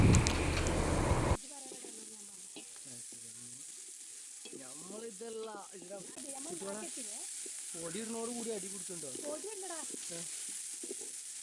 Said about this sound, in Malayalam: അപ്പോൾ നല്ലോണം ഇളക്കി കൊടുക്കുക.